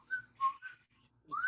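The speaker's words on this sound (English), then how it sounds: "should whistle him out" A person whistles a short goodbye tune of three clear, close notes, pauses briefly, then ends on a rising whistle.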